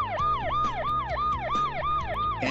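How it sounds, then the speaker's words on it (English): An ambulance siren rises and falls in a rapid, regular yelp, about three cycles per second. It sounds loud and up close and plays on its own, with no voices. "Ambulance."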